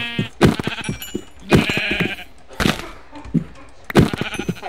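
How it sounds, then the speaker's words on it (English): Repeated sheep bleats from Minecraft, several short calls spaced across a few seconds, loud and close in the game mix. "Ooh, sheep."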